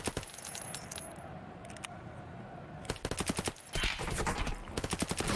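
Rapid bursts of gunfire ring out during a competitive video game grand final match, sharp cracks coming in clusters with louder, denser volleys toward the end.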